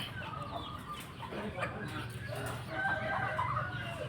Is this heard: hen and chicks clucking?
yes